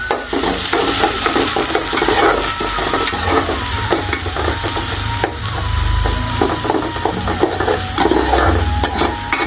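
Onion, spring onion and garlic fry in oil while a wooden spoon scrapes and stirs the pan, giving a loud, close sizzle broken by repeated knocks and scrapes, with no voices.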